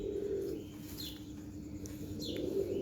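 A pigeon coos softly over a low, steady background hum, with a few faint chirps rising briefly above the murmur.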